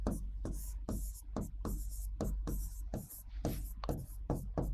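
Chalk or marker strokes on a board, a quick rhythmic series of about a dozen short, close scratchy bursts with brief gaps between them, no talk.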